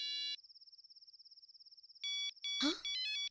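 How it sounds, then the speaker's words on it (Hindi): Mobile phone ringing with a bright electronic ringtone, a steady tone that pulses then returns in bursts, close and clear, briefly interrupted by a sharp noisy rustle. "ये मोबाइल किसका बज रहा है?"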